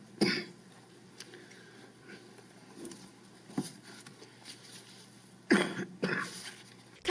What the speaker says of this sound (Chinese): 话说到一半，忍不住咳嗽，